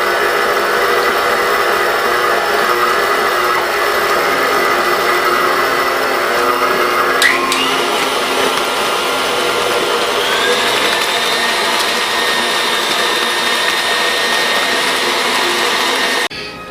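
Stand mixer running continuously as bananas are mixed into a batter of shortening, sugar and egg, giving a loud steady whirring hum whose pitch shifts audibly partway through before it cuts off at the end.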